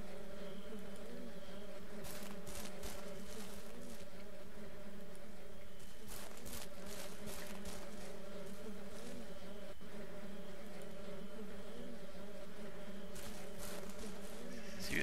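Bees buzz around hives in the farming game Ranch Simulator, a steady, close, continuous insect drone that holds through the whole stretch with no talking.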